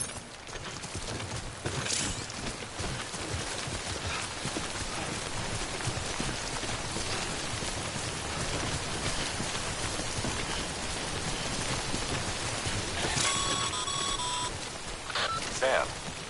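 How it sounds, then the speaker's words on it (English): Timefall rain in the video game Death Stranding pours as a steady, even hiss the whole way through, with a few short electronic beeps chiming in near the end. "Don't stay out in the rain any longer than you have to."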